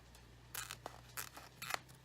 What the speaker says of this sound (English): I'm going to cut this tag off.